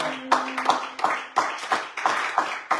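A church congregation claps together in steady rhythm to acclaim the Lord during a worship service, with loud, close, evenly spaced claps.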